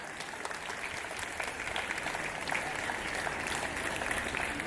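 A college audience at an Independence Day celebration applauds the winners with steady, dense clapping that fills the hall evenly throughout, moderately loud and continuous with no break.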